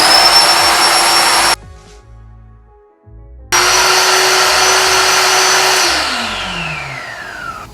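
An Enerplex portable electric air mattress pump whines steadily while inflating the mattress, cuts out for about two seconds, then restarts loud and close before its pitch slowly drops.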